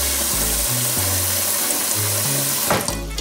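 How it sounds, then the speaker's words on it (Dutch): A large soup pan fills with plenty of water from a kitchen tap for tagliatelle, a steady rushing stream that rises in pitch as the pan fills, with no talking. "Die gaan we even met ruim water vullen."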